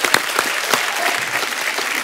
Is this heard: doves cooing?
no